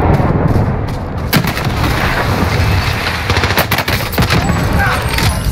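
Gunfire in the Warzone battle royale video game, with dense bursts of shots and heavy booms in quick succession that fill the whole stretch at close, loud range, with no one talking.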